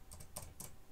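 A single keypress on a computer keyboard, likely the Enter key, struck in a few quick clicks close to the mic, with no voice in between.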